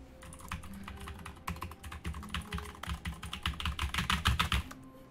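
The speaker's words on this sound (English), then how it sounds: "Have some keyboard ASMR for your troubles." Computer keyboard typing in a quick, uneven run of key clacks that grows denser and louder toward the end, heard alone without voices.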